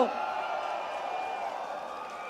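A crowd at a Bangkok political rally boos in a loud, steady roar that holds for the whole stretch without letting up.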